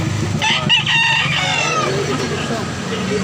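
Roosters crow loudly and close, with chicken clucks mixed in, over a steady background murmur and people talking nearby.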